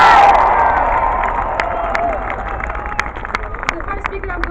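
A large outdoor crowd at an anti-nuclear rally in Glasgow cheers and roars, loud at first and slowly fading, with scattered whistles and claps throughout.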